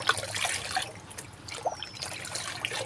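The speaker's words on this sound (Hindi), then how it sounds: "आज वो मैं वही डाल रही थी प्लांट्स में, इसको मैंने ऐसे पानी में मिला लिया।" Vegetable-peel compost mixed with water is poured onto potted plants, giving soft trickling and splashing that comes and goes in a couple of brief pulses, close and quiet.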